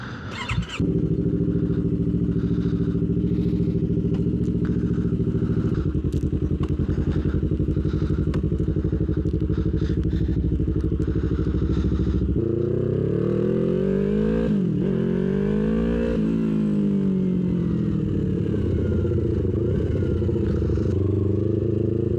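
Motorcycle with a new brake light and cap, riding steadily, its engine drone loud and continuous throughout, with a clear shift in pitch partway through and rising and falling revs later, no talk.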